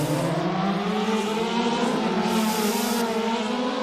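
Race cars in a racing video game set at Imola pull away from a grid start together, a dense layered engine drone with steady rising harmonics, loud and continuous with no speech.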